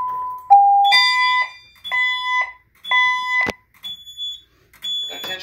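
Two-stage fire alarm system evacuation signal: loud electronic chimes and tones in a repeating stepped pattern, each burst separated by brief gaps, with a sharp click partway through.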